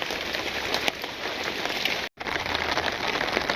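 Light drizzle falling steadily over a village road, a continuous soft hiss and patter of fine drops on surfaces, close and even throughout, with no voices.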